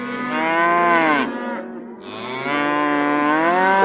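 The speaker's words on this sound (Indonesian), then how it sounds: "Ada hewan sapi perah." A dairy cow in the Jurassic World Dominion video game gives two long, loud, close moos with a brief dip between them, sounding clear and alone without any talk over it.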